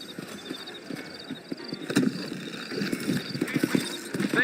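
Horse hooves clip-clop at a walking pace in the Western video game Red Dead Redemption, with steady close hoofbeats over quiet ambience and occasional creaks.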